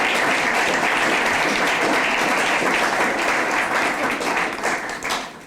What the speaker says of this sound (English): may we get a very resounding applause for Mr. Timothy Carmen